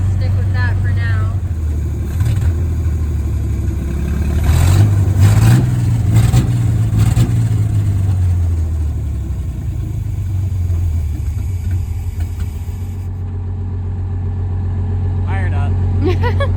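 A Chevy Luv truck engine idles steadily, a loud low drone with a swelling rev in the middle that settles back to a lower, even idle, with people talking over it.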